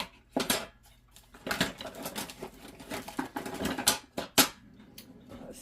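A spoon and kitchen utensils are taken out while homemade bread is made. Close clinks and rattles of metal come in quick bursts, with brief rummaging sounds, and no talk.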